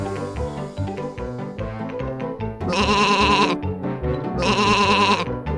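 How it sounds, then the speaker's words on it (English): Two drawn-out sheep bleats over a steady backdrop of cheerful music, each lasting about a second. "Sheep."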